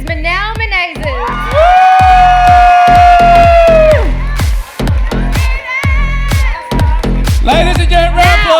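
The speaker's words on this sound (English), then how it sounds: "round of applause for Manal representing Australia" An audience at the Mrs. Australia International 2023 pageant cheers and whoops for the crowned winner, with loud voices and a rhythmic beat of amplified music pounding underneath throughout.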